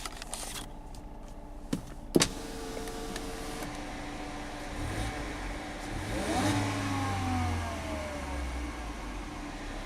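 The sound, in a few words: whine from rubbing car engine belt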